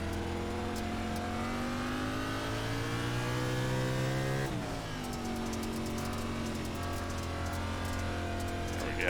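A race car engine on the dirt track at Bristol in iRacing drones and climbs steadily in pitch, drops sharply partway through, then holds a wavering, fluttering note.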